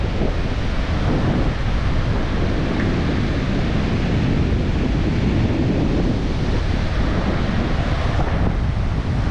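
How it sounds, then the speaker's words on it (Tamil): Rough sea waves pound the shore at Kodiyakarai beach, a continuous loud roar of surf with heavy wind buffeting the microphone throughout. "ஏற்கனவே கடல் பயங்கரமாக இருக்குது. இந்த பாருங்கள் எப்படி இருக்குது கடல்."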